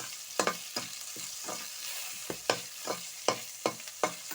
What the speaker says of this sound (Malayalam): ആദ്യം ഓയിൽ ഒഴിച്ച് ചട്ടി ചൂടായ ശേഷം അതിന് ശേഷം കടുക് ഇട്ട് സബോളയും പച്ചമുളകും വഴറ്റി